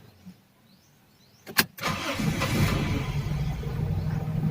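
A Toyota Corolla AE101 with a 4A-FE engine and a cold-start problem is cranked briefly, then catches and settles into a steady, fairly quiet idle that continues to the end.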